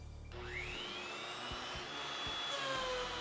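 A benchtop planer with a helical cutterhead runs steadily and planes a piece of wood with no dust collection, a loud continuous motor whine with tonal harmonics and brief dips as the board feeds through.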